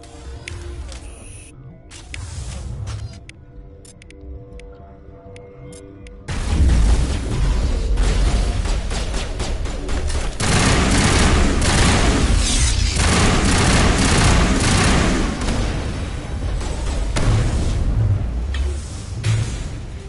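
Heavy gunfire and booming explosions in a firefight inside a research lab in Mass Effect, sparse shots at first, then a dense, loud, sustained barrage of bursts.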